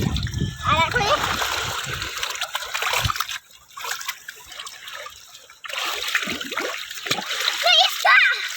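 Children splash and churn sea water at a beach, with continuous sloshing and spattering up close while kids' voices chatter over it.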